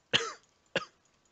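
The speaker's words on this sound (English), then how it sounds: "Totally just coughed into my microphone." Two sharp coughs land close into a microphone, the first longer and raspier, the second shorter, separated by a brief silence and followed by quiet.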